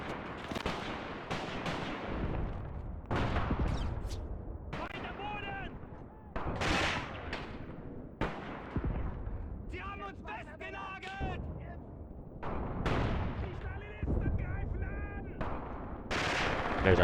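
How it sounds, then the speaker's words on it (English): Troops in a Graviteam World War II strategy game fire from foxholes, with sharp rifle cracks and heavier booming shots spaced irregularly through a steady battlefield din, while someone talks throughout. "There's our troops there, firing from their foxholes."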